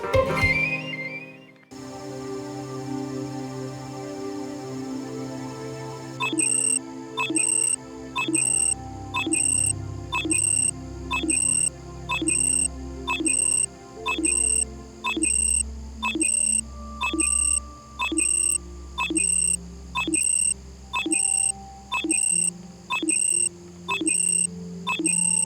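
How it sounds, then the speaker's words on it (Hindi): A mobile phone's water-drinking reminder sounds after a brief melodic chime, then repeats a bright pulsing beep in a steady, evenly spaced rhythm for over twenty seconds. "कब पानी पीना ये भी इसका फोन ऐसे बताता है।"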